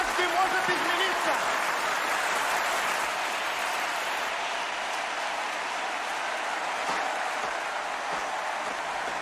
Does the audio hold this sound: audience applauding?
yes